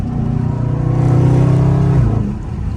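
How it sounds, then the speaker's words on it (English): A Dodge Charger Scat Pack engine revs loudly and steadily, its exhaust droning and rising slightly before easing off, heard close up with a window down. "I can roll the window down now, so I might give y'all a little exhaust action."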